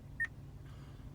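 A single short electronic beep from the voice command system of a 2020 Acura MDX navigation unit, clear and brief over a quiet cabin hum, followed by faint stillness.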